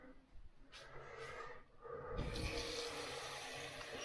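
Water poured at home for flushing a toilet: a steady splashing rush that starts about halfway through and keeps going loudly to the end.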